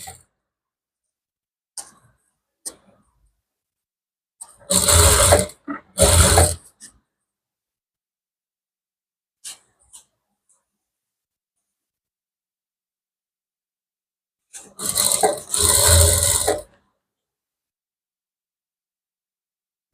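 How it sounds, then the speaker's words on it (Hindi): A sewing machine stitches blouse fabric in short separate bursts, two quick runs and then a longer one after a pause, with scattered soft clicks and handling sounds between them in an otherwise quiet room. "अब यहाँ पे मैं सिलाई लगाता हूँ।"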